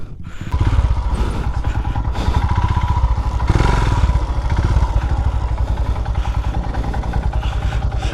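A motorcycle engine runs loud and close on a hilly track at Dibbagiri Betta, a steady pulsing rumble with some clatter and scraping throughout.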